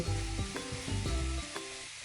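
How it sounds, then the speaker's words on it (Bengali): Snails and potatoes sizzle in hot oil in a pan as a metal spatula scrapes and turns them, giving a few distinct knocks and scrapes over steady frying hiss, fairly quiet and close. "কিছুক্ষণ পর ঢাকনা খুলে খুন্তি দিয়ে নেড়ে চেড়ে নেব"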